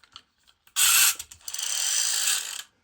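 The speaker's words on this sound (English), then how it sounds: "Looks like we've got a chainsaw or cutter." A vintage toy chainsaw's mechanism whirs and rattles with a gear-driven ratchety buzz, a short burst followed by a longer steady run, close and fairly quiet, with a few clicks beforehand.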